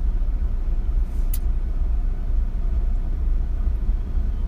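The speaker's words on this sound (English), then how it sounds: "Escalade pulling out, and the man still cleaning his car." Cadillac Escalade pulling out at an airport pickup area, a steady low engine and road rumble, fairly loud and close, with a brief higher hiss partway through and no talk.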